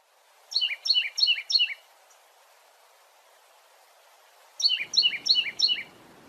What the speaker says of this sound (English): Titmouse.